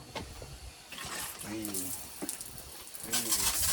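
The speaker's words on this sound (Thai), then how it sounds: "มีฝักบัวตรงนี้อาบน้ำนะเดี๋ยวเปิดน้ำให้ดูนะ" Shower water bursts out of a head in a 2x2 m bamboo bathroom with a cement floor, a loud broadband spray that rises near the end after someone talks over quieter water noise.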